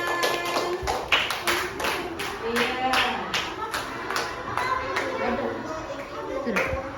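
Children in a primary classroom clap their hands together in a quick, regular rhythm of sharp claps, with children's voices chattering over them.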